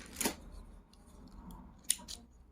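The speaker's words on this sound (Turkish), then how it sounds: "ipimi kestim" Scissors snip through crochet yarn at close range, a couple of quiet, sharp clicks separated by a short pause, with no talking.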